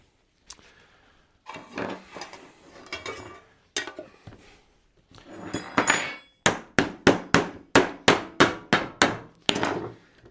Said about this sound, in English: Clean this off good so I can get this lid back on it real quick.